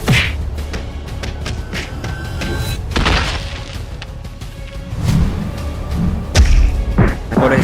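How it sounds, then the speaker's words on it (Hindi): Several punchy boom and thud hits with whooshes, like powerful kick impacts in a Hindi detective drama fight scene, spaced irregularly across the clip with music or effects between them. "एक जोरदार किक मारती है"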